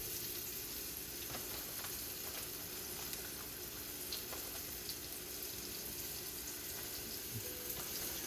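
Flour-coated pieces of pork tenderloin brown in a frying pan, giving a faint, even, hissing sizzle that runs unbroken, with an occasional light tick.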